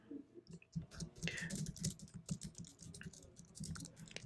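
Quick, close clicking of a computer keyboard as a short message is typed, keystrokes tapping in an uneven run with a few heavier presses, quiet and alone.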